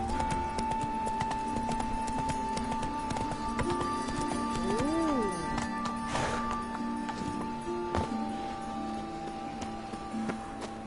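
Hooves clop rhythmically as the horse Roach gallops in The Witcher video game, a steady fast beat under game music and ambience, with a brief whinny-like rising tone midway.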